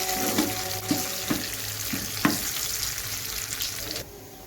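Cumin and spices sizzle and crackle steadily in hot oil for a dal tadka, with a few sharp spoon taps against the pan before the sizzling suddenly drops off.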